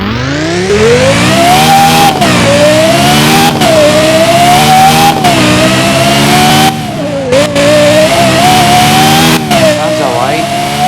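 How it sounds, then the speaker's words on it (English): A Lexus LFA's engine in the Driving Empire racing game revs loud and continuous, its pitch climbing in repeated surges with brief dips at each gear change, close and dominant. "let's test it out on the Lexus LFA. You see the sound of this."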